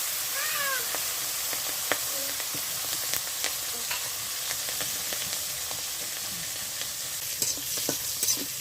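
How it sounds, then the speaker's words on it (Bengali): Hilsa fish frying in a pan with nigella seed and chili in a village kitchen, a close steady sizzle with stirring clicks, while a cat meows a few times early on. "Grandma is now frying the fish. Hilsa fish."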